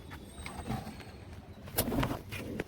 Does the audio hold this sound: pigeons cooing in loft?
yes